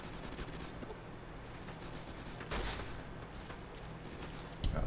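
Gunfire in the video game Fallout New Vegas, a fairly quiet fusillade of shots under a steady background hum, with a sharper burst near the end and no voices.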